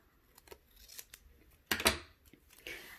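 Scissors cut a small paper chip close up, giving a run of light snips followed by a louder, sharper cluster of cuts near the end, with no talk.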